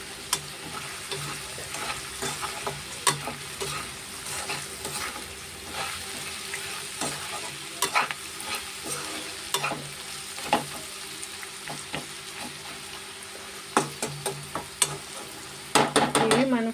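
Okra stir-frying in a pan with roasted peanuts, steady sizzling broken by repeated sharp scrapes and clacks of a spatula stirring, fairly quiet throughout.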